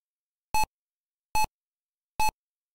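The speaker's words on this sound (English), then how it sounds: "The beeping you hear is the program formatting 255 35-track single-sided basic disk partitions." A Tandy Color Computer 3 emulator formatting 255 single-sided 35-track disk partitions gives three short, clear electronic beeps at even intervals about a second apart, with nothing else audible.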